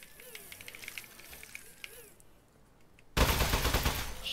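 An Aperture Science turret fires in the video game Aperture Desk Job: a sudden loud, dense burst of rapid shots that cuts in late, after quieter electronic game chirps and beeps.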